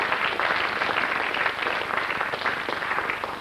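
A studio audience at a radio quiz applauds winner Marion Herod with a steady, dense round of clapping that fades slightly at the close.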